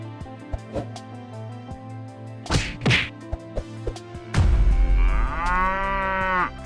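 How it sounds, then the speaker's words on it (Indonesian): Cow mooing, a long loud low call with rising harmonics that starts after several sharp slaps and thwacks, recorded outdoors at a traditional event in Indonesia. "Sapi Betina"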